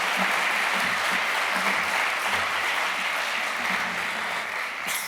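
An audience applauds to welcome Leigh Sales and Elias onstage at a talk, a dense, steady wash of clapping from many hands that holds evenly throughout and eases slightly near the end.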